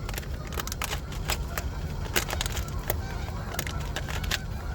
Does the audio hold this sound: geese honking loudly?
yes